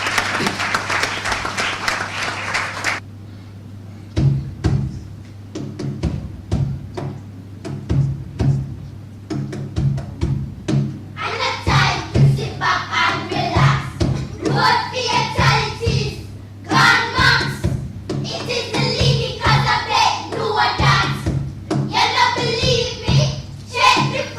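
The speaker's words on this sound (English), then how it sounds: "Please give a big round of applause for students of Mona Heights Primary." Audience applause for primary school students at a road safety event begins after a brief passage of speech, as scattered sharp claps that thicken into bursts of clapping mixed with crowd chatter and cheering.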